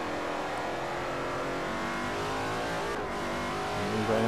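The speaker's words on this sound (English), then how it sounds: "Lovely engine sound to these cars in the game." A race car engine in the video game Forza 4 at Suzuka drones at high revs in second gear, holding a steady whine with a slight rise near the end, no talking over it.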